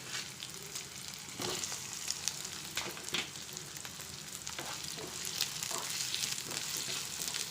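Onion and potato fry in a pan for a vegetable curry, giving a steady, close sizzle broken by occasional soft scrapes of stirring.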